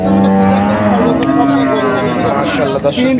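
A cow moos at the Aronkhola cattle market in Pabna in a long, loud, low bellow that rises slightly midway, with a brief second call near the end.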